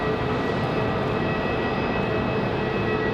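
A Delta airliner from Minneapolis touches down at Raleigh-Durham airport, a steady broad roar of engines and airflow with a faint whine, continuous and fairly loud without talk.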